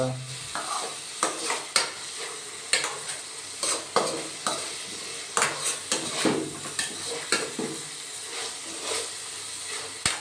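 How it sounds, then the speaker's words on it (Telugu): Onions and tomatoes fry in a pan for a vegetable rice dish, a steady sizzle and hiss broken by regular metal spoon scrapes and clinks as the mixture is stirred, close and fairly loud. "ఉల్లిపాయలు టమాటాలు మొత్తం వేగాలి"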